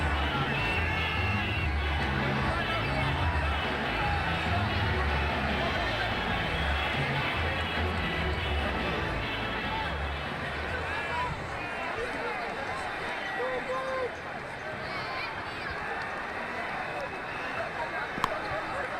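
A stadium crowd in the video game Ashes Cricket 2009 cheers and murmurs steadily after a boundary, a broad continuous roar that eases slightly later, with commentary voices talking over it.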